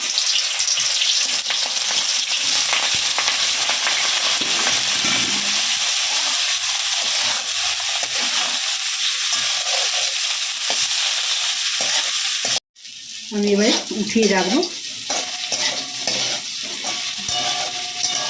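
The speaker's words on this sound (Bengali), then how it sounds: "এবার ফুলকপিগুলোকে আমি ভেজে নেবো" Cauliflower pieces fry in hot oil in a wok, a loud continuous sizzle with scraping stirs, briefly cut off before resuming with a spatula clatter and someone speaking.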